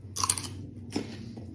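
Biting into cucumber topped with cottage cheese and mustard gives two crisp, close crunches with soft chewing between them, alone and fairly quiet.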